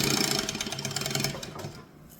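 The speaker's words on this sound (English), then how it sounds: "And then we only want to top stitch the top edge." Sewing machine top-stitching along the top edge of fabric, a rapid, even mechanical whirring of needle strokes that runs steadily, then slows and stops near the end.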